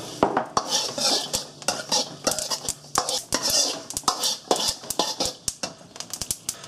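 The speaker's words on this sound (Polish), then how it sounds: "początku prażymy orzechy nerkowca oraz ziarna sezamu" Cashew nuts and sesame seeds dry-roasting in a pan, tossed and stirred constantly, with rapid rattling clatter of seeds and utensil against metal in an uneven rhythm, close and fairly loud.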